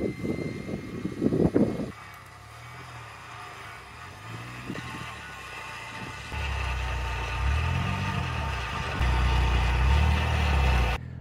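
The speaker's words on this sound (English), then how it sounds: "Set up the winch and go from there." A winch hauls a stuck Ford Bronco out during off-roading; a low mechanical motor drone hums steadily, then swells louder and rises in pitch as the pull strains, with a brief rattling clatter at the start.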